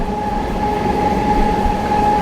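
An Azimganj–Berhampore Court MEMU passenger train runs across the Nasipur rail bridge over the Bhagirathi river, a loud, close, continuous rumble of wheels and carriages with a steady tonal hum riding on top.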